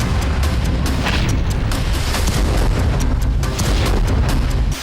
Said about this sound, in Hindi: जब रूस से दंदनाती हुई मिसाइलें हमले के लिए पहुंची